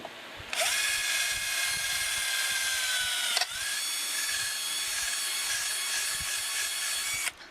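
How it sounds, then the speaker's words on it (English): A power drill bores a hole through a wooden guitar body, giving a steady high whine that lasts several seconds, dips briefly, then continues and stops abruptly. The sound is close and loud, with no talking. "Once you break through, really go in a circle, because you want that to be a smooth hole right there without the big shavings up top."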